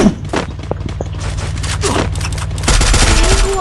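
Gunfire in the mobile battle-royale game Free Fire, with rapid overlapping shots crackling over a steady low engine-like drone, growing denser and louder toward the end; no speech.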